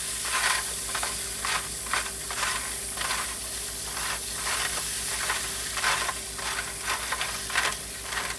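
A jewelry cleaning solution is stirred, giving a run of rhythmic swishing strokes over a constant fizzing hiss, close and moderately loud, with no one speaking.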